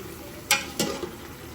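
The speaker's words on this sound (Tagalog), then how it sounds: "Tapos haluin natin." Beef caldereta stirred in a pot for a Filipino fiesta dish, two distinct scraping strokes of a spoon with a softer third, over a faint steady simmer and sizzle.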